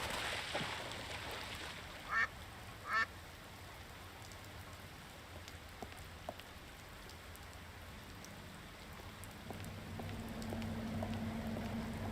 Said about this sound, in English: This noisemaker seems to appeal to the ducks.